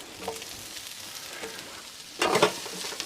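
Mushrooms hit a hot pan with leftover steak juices, a steady sizzle with light stirring scrapes, swelling into a louder burst of frying near the end; close and unaccompanied by speech.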